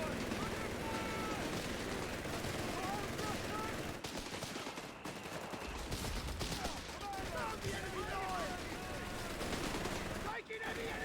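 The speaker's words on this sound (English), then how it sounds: "Taking any enemy fire." Dense gunfire and machine-gun bursts from a Company of Heroes 3 battle between British forces and the enemy, a steady loud barrage with scattered shots and faint in-game voice chatter underneath.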